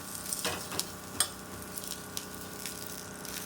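Adai batter cooking on a hot pan gives a continuous soft sizzle with a few faint clinks and scrapes, close by and without talk.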